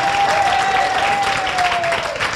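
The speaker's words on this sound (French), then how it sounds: "Acclamez un peu pour moi." Audience at an AKWABA 2018 gospel worship gathering clapping and cheering loudly, dense continuous applause with a held tone over it and voices mixed in.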